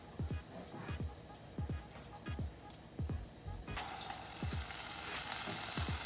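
Medu vada batter drops into hot oil, a soft sizzle rising into a steady bubbling fry in the second half, under repeated low thumps and quiet talk.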